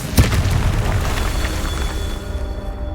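A Confringo spell blast in Hogwarts Legacy lands as a sharp booming explosion, followed by a rumbling, crackling tail that slowly fades over a few seconds.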